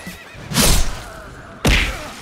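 A horse in the video game Elden Ring neighs twice, a loud whinny near the start and a second sharp neigh toward the end, standing alone without talk.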